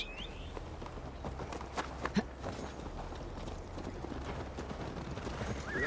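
Horse hooves clip-clop steadily as riders mount up in the video game Assassin's Creed Valhalla, set under dense game ambience and music, with a few sharper hoof strikes near the middle.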